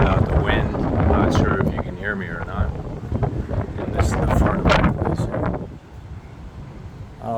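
Strong wind buffeting the microphone outdoors at a beach condo on Takiab Beach, Thailand, roaring loud and gusty under someone talking, then easing off near the end.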